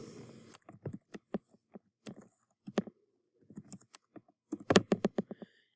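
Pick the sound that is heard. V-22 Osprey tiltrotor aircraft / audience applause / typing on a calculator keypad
typing on a calculator keypad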